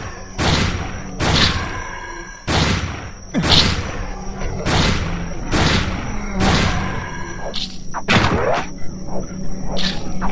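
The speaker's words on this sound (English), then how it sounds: "Shotgun." Shotgun blasts from the zombie shooter game Zombocalypse, about a dozen heavy booming shots at a steady, roughly one-per-second pace, loud and close, over a low game backdrop.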